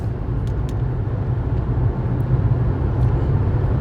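Steady low rumble of a car being driven, engine and road noise constant and close throughout, with faint rattles and no speech.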